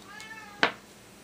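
A cat coming back indoors with tinsel caught on its tail gives one short, fairly loud meow-like call, standing alone against a quiet room with faint tonal background.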